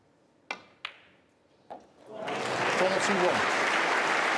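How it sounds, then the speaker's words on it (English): Packed snooker crowd at Alexandra Palace during the Masters breaks into sustained, loud applause after a few sharp isolated claps, the clapping swelling and holding steady to the end. "He's getting plenty of encouragement from this packed crowd here at Alexandra Palace"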